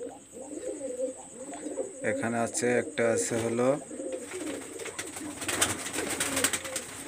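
Lalpari and Teddy pigeons in a loft coo in rhythmic rising bursts, one bird especially close and loud, while someone talks over them in a quiet room.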